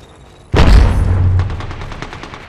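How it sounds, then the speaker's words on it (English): A single heavy, booming gunshot in Apex Legends cracks suddenly after a quiet lead-in, then rolls into a long rumbling tail with faint rapid clicks fading away. "Shots fired at me."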